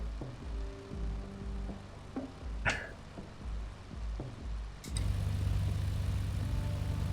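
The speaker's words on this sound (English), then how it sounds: "Look at that throaty roar, throaty sound of this twin Lycoming engines" Twin Lycoming piston engines of a BN-2 Islander taxiing in a flight simulator, a steady low throbbing drone that pulses rhythmically and then swells into a louder, fuller roar near the end.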